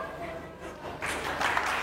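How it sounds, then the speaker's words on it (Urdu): A studio audience on a Ramadan iftar television show claps briefly. The applause is faint at first and swells in the second half over low background sound. "اور ساری تالیاں."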